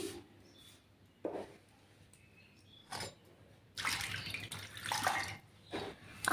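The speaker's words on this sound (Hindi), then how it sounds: "हरी मिर्ची को धोऊंगी।" Green chillies washed under running water, with short faint bursts of tap water and splashing separated by quiet pauses, then a longer stretch of rinsing toward the end.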